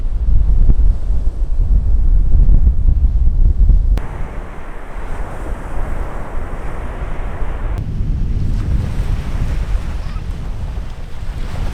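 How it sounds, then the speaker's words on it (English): Strong wind outdoors by the sea buffets the microphone in heavy, rumbling gusts over the wash of surf, loud at first and then easing slightly, with no one talking. "oh, it's really windy today"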